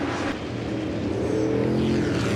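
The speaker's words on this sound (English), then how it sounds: "the first three into the chicane, and they all hit the loud pedal together" Chevrolet race cars at a historic motor racing event accelerate hard out of a chicane, producing a loud, continuous engine roar that rises in pitch.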